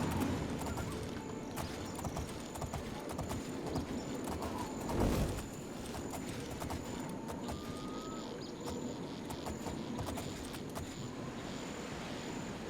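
Horses walk at an easy pace, their hooves clip-clopping softly over a quiet outdoor background of wind and insects.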